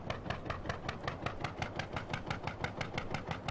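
A Deutz F1 M414 tractor engine in Landwirtschafts-Simulator 13 chugs steadily while pulling a trailer, a fast even thumping rhythm of close, constant firing pulses with no talk.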